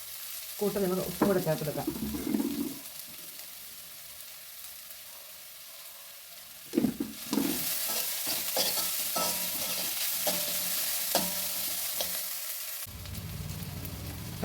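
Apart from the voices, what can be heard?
onion, ginger and garlic sautéing in oil while stirred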